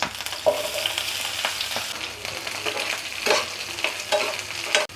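Onions, mustard seeds, and dried and green chillies frying in a pan for gongura chicken, crackling sizzle with repeated scraping stirs, close up and continuous.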